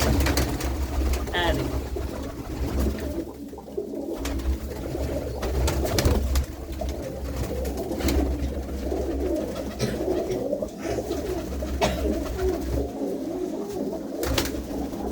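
Premium kabooter pigeons coo over a loud, steady background of rumble and chatter, low purring calls repeating throughout while people talk nearby.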